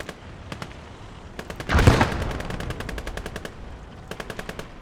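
Soviet light tank machine gun in the WWII game Gates of Hell: Ostfront, rattling in sharp bursts of rapid shots with a heavier blast mixed in midway, moderately loud at a short distance and no talk over it.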